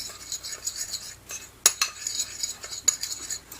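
A spoon stirs nutmeg into a bowl of baked apple filling, making soft scraping swishes punctuated by a few sharp clinks of metal against the bowl, close and fairly quiet, with no voice.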